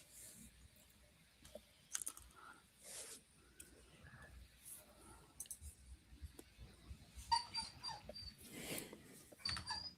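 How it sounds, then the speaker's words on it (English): Agitated dogs whimpering indoors, scattered faint whines, snorts and clicks over about ten seconds amid quiet background sound. "Oh, dogs are bugging out, huh?"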